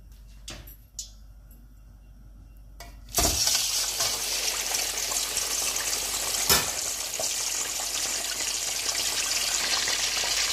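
Chicken pieces go into hot oil in a kadai. After a few quiet clicks, a sudden loud sizzle bursts up and keeps crackling steadily nearby.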